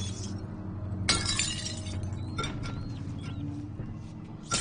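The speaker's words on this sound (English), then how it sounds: "Smashing all the booze." A booze bottle smashes with a sharp burst of shattering glass in the horror game Amnesia, and jagged fragments tinkle and scatter afterward. A low ambient drone runs underneath, and a second smaller crash lands near the end.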